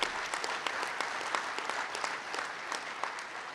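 An audience at a union convention applauds continuously, a dense steady wash of many hands clapping in a large hall, even in loudness throughout and heard at a slight distance.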